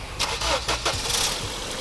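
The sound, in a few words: car engine starting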